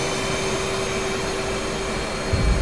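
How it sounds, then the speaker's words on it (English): A fighter jet's afterburner spools up inside the cockpit in DCS World, heard as a constant roaring hiss with a steady whine, growing heavier with a low rumble toward the end. "That big bone crunching afterburner."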